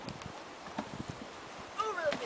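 Horse hooves clip-clop at a jog over fallen deadwood logs on a trail obstacle, with a few irregular nearby thuds and a brief whinny-like tone near the end.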